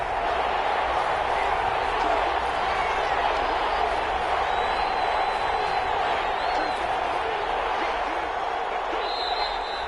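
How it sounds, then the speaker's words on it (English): Stadium crowd noise in a PS4 football video game building ahead of a big third down, a loud, steady roar of cheering that holds for the whole stretch without letting up. "the crowd getting into it as we come up on a big 3rd down"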